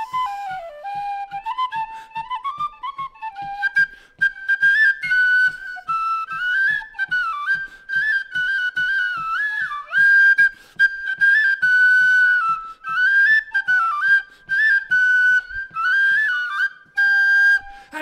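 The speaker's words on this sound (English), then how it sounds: "Let's play on our tin whistles together. How about Jack's Alive?" A tin whistle plays the lively Irish tune Jack's Alive at a Celtic storytelling and song event, its bright, ornamented melody running continuously for the whole stretch, clear and close with no talking.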